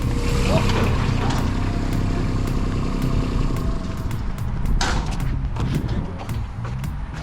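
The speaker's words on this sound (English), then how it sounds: "First gear start. Gets us to like, oh, the tightest donut ever." A go kart engine revs hard from a first-gear start and holds a loud, steady drone through a tight donut, with tyre and chassis thumps over the top and people talking near the end.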